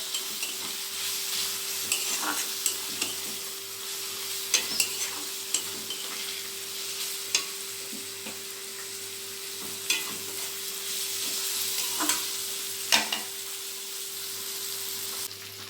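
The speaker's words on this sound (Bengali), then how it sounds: "খুব মিডিয়াম লো আঁচে ভেজে নিতে হবে যাতে এটা পুড়ে না যায়।" Turmeric and chili powder fry in a pan over medium-low heat, a continuous gentle sizzle broken by a dozen or so spatula scrapes and taps at irregular intervals, close and quiet, no voices.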